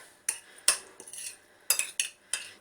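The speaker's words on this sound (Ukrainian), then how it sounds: "Так, перемішуємо грибочки." Mushrooms being stirred in a pan for a potato-and-mushroom varenyky filling: about half a dozen sharp metallic clinks of a utensil against the pan, spaced irregularly, close by, with quiet gaps between.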